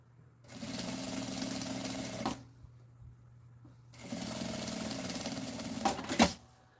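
A sewing machine stitches a fabric bag in two steady runs of motor whirring, each a couple of seconds long, separated by a short pause, close and moderately loud.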